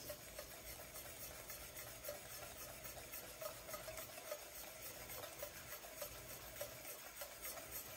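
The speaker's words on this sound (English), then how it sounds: "take your whisk, break up any of the clumps, and just get everything mixed" A whisk works through a keto corn syrup mixture in a pan, a faint, steady scraping and swishing that carries on for several seconds over a low background hiss.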